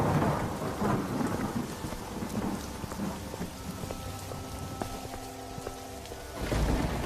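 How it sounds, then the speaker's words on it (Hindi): Heavy, unseasonal winter rain pours down in a dense, steady hiss, with rolling thunder rumbling beneath and a louder surge near the end. "जोर जोर से बारिश शुरू हो जाती है"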